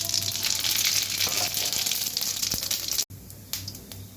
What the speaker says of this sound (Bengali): এবার আমি ফোড়নটা দিয়ে দিচ্ছি।